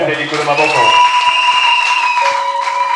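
Worshippers in a church applaud the Lord, continuous clapping mixed with held musical notes and singing voices that fade slightly toward the end.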